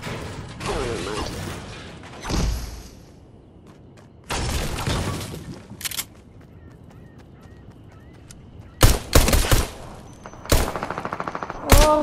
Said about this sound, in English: so he's shooting at me already